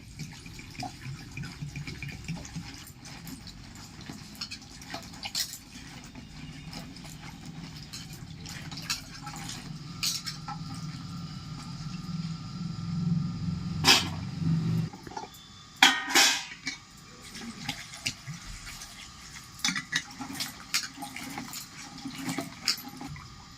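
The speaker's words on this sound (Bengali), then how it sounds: "ঢ্যাঁড়সগুলো আগে আমি ভালো করে ধুয়ে নিচ্ছি তারপরে আমি ঢ্যাঁড়সগুলো কেটে নেব ভালো করে দু তিনবার ধুতে হবে" Tap water runs steadily while okra is rinsed under it, a continuous close splash and gush that shifts as the pods are handled, with louder sloshing bursts in the latter half.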